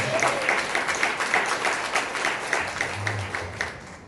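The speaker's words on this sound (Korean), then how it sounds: "큰 박수 한번 부탁드리겠습니다" A room full of people claps steadily, a dense, even applause that continues throughout without voices standing out.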